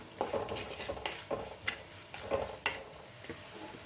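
Coconut pieces fry in a pan for Kerala beef fry, with soft sizzling under a series of sharp stirring scrapes and clinks of a spoon against the pan, close and fairly quiet.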